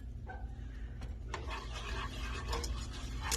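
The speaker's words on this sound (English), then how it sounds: "it is time for me to whisk in our flour until it becomes a golden color" A whisk scrapes and rasps through flour stirred into warm garlic and butter in a pan, a steady close scratching with a few sharper clicks against the pan, alone without talk.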